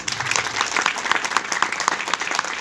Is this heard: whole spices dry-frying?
no